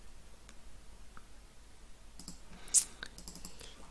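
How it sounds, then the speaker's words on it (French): A single sharp computer mouse click sounds near the end of a quiet room, with a few faint softer ticks around it and no speech. "Je clique sur OK."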